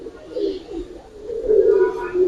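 Giribaz pigeons cooing close by, with low, soft, rolling coos repeating over a couple of seconds.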